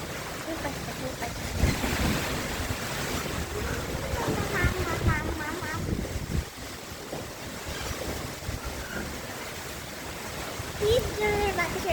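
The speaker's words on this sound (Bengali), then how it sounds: "ঘূর্ণিঝড় রিমালের তাণ্ডব চলতেছে" Cyclone Remal lashes Bangladesh with storm winds and rain, a continuous loud roar of gusting wind and churning water that swells and eases without pause.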